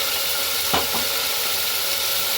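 Spices are stirred into green pigeon pea curry frying in a pan, a steady loud sizzle broken by a couple of brief scraping stirs near the start.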